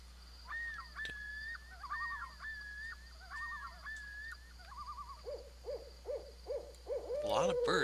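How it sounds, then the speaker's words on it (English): Owls hooting in a dark forest in the video game Epic Quest of the 4 Crystals: repeated tremolo hoots and warbling calls in short phrases, moderately close over a quiet hum, rising to a louder flurry at the end. "A lot of birds here."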